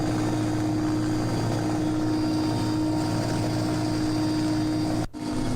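An Air Force helicopter dropping food packets over a flood-hit area near Darbhanga gives a steady, loud rotor and engine drone that fills the whole stretch, with a brief dip near the end.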